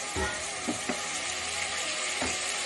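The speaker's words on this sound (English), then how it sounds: "Give it a nice fry." Sliced eggplant (brinjal) fries steadily in a pan, giving a continuous close sizzle broken by a few soft thumps of stirring.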